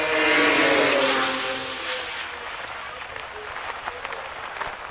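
BMW M Performance Parts race cars roar through a chicane, engines loud and close at first and then fading as they pull away, with a crowd or distant noise underneath.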